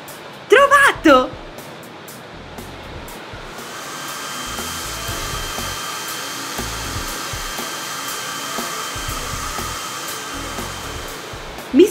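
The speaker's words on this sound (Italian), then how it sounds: "Mi serve un phon." A hair dryer runs steadily at close range, a continuous whirring hum that fills most of the clip, with a brief burst of a voice before it starts.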